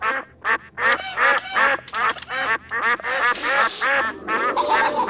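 Ducks in a video game quack loudly and rapidly, a dense, overlapping run of nasal calls in quick bursts that continues without pause throughout.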